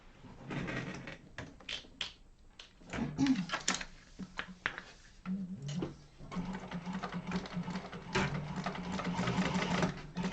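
Sewing machine basting and top stitching a Yoshi Sling bag at an eighth-inch seam allowance, close rapid mechanical chattering in bursts with short pauses between runs, faint handling noises.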